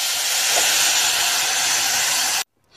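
Steam hisses loudly and steadily as hot water goes into rice frying in oil, a broad close rushing sound that cuts off abruptly after about two and a half seconds.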